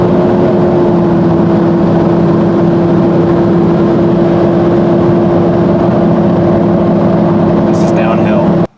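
A 3rd gen Toyota 4Runner engine holds about 3,500 RPM on cruise control at 75 to 80 mph, giving a steady, loud, droning hum that runs unbroken through the whole stretch.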